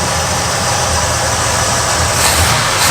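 Boat V8 engine in a truck idling roughly with a bad carburetor power valve running rich, a steady uneven rumble heard close up.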